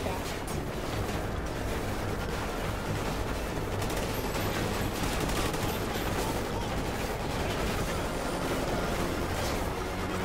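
Dense, sustained gunfire from the video game Call of Duty Ghosts, a steady loud rattle of shots running the whole time with faint talk underneath.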